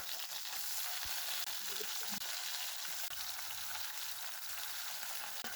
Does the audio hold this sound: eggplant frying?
yes